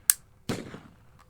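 Umarex H.P.P. blowback air pistol firing: a single sharp crack followed about half a second later by a second, fuller report with a short rattling tail, both close and loud.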